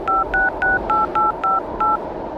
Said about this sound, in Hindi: हेमंत ने एक दो बार और नंबर डायल किया